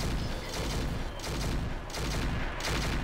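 Weapons fire in the Roguetech BattleTech mod video game: a dense, continuous roar of heavy fire with steady broadband rumble, loud throughout with brief dips between volleys.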